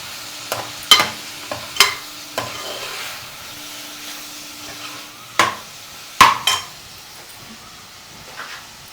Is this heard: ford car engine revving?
no